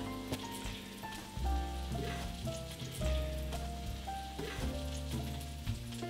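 Broccoli florets sizzle and crackle steadily in a hot frying pan, a dense, close spatter with occasional sharper pops and a low background hum, no voices.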